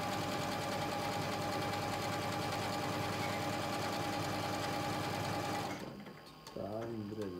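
A Janome M7 Continental sewing machine stitches a pattern at a fast, steady mechanical whir, loud and close, then stops near the end as a brief voice and quieter rustling follow.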